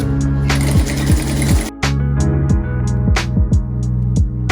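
Sewing machine stitching a waterproof organizer bag runs in loud, rapid bursts of needle strokes, stopping and restarting several times with clicks and clunks between runs.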